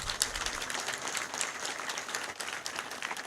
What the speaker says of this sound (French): Il y a de quoi applaudir.